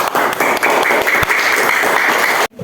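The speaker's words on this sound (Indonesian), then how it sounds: "Beri aplaus atau tepuk tangan" A classroom of students claps after a group presentation, producing loud, dense, continuous hand clapping that cuts off sharply just before the end.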